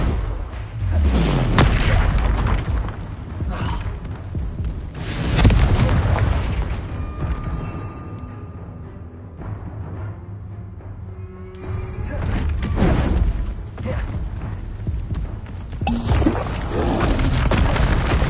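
Spell explosions in the video game Hogwarts Legacy boom and crackle loudly and almost continuously during combat, with heavy blasts and bursts layered over one another and a brief quieter stretch midway.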